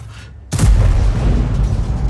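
A tank cannon firing an armor-piercing round in a tank video game, one heavy booming shot after a brief quiet lead-in, with a long rumbling tail.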